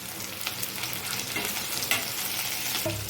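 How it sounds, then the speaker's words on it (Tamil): Capsicum sautéing with onions in a pan for cabbage capsicum poriyal, giving a steady close sizzle with scraping stirs and occasional sharper clicks of the spatula against the pan throughout. "இப்போது கேப்சிகம் ஒரு 2 நிமிஷம் நல்லா வதங்கட்டும்."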